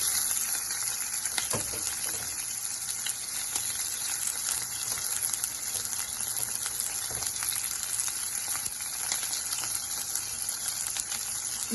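Onion and green chili fry in oil for spicy sweet corn rice, making a continuous, even hiss of sizzling with a couple of faint knocks.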